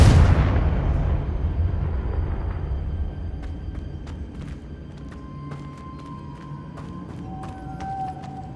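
A Confringo blasting curse explodes in Hogwarts Legacy, one loud booming burst at the start that fades into a long rumbling tail, followed by faint scattered clicks and tones.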